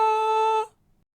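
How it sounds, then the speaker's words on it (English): A speaker sounds a steady, bright high-pitched tone, loud and close, holding for about half a second before cutting off cleanly into near silence. "if the diaphragm of this speaker oscillates back and forth faster, then we get a higher pitch"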